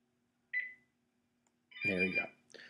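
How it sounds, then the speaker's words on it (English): Telephone ringing indoors, a short faint electronic tone heard once alone before a voice speaks over a later burst. "Telephone's ringing."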